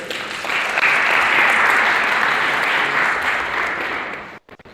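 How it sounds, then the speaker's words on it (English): An ETHWarsaw 2022 conference crowd applauds on the main stage, a sustained, full round of clapping that swells, holds steady, then quickly trails off into near silence. "And an additional round of applause for Brian"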